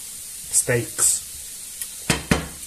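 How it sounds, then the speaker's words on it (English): Garlic mushrooms browning in a hot pan, a few short, separate sizzling crackles and scrapes over a quiet background. "So we'll leave them there to brown, to cook basically for a little while."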